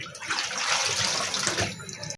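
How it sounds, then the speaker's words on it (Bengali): Red amaranth greens are washed in a basket under running water, producing a continuous close splashing and pouring that stops abruptly at the end. "চুবড়িটার মধ্যে ভালো করে ধুয়ে জলটা ঝরে গেলে শাকেতে অনেকটা জলটাও বের হবে"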